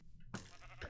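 A sheep bleats twice in a video game, a short nasal cry near the start and a second one just before the end, loud and close against steady game background sound.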